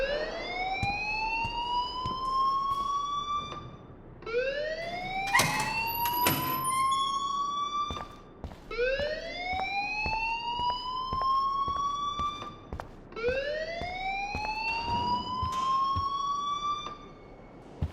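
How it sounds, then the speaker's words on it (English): A fire alarm blares inside the Life is Strange video game, a repeating electronic whoop that sweeps upward in pitch about every four seconds, four cycles in a row, loud and steady with no talking. "please turn off that alarm since that's your job"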